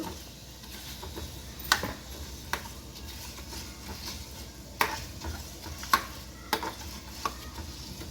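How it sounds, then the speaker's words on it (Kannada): Fenugreek seeds frying in hot oil for a Kannada red chilli chutney make a quiet, soft sizzle, broken by scattered sharp pops and crackles and a few light stirring clicks. "ಮೆಂತ್ಯ ಚೆನ್ನಾಗಿ ಪರಿಮಳ ಬರೋವರೆಗೂ ಎಣ್ಣೆಲೆ ಫ್ರೈ ಮಾಡ್ಕೋಬೇಕು"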